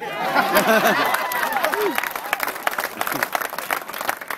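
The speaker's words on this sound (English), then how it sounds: "go ahead and cheer, y'all" A crowd at a political campaign rally for a governor candidate claps and cheers, with whoops and excited voices over dense applause that trails into scattered claps.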